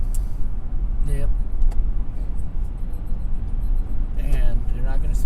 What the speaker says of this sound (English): cars coming out